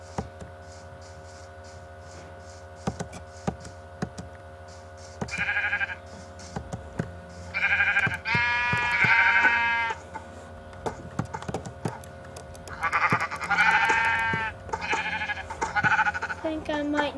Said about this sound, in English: Ooh, I found a sheep.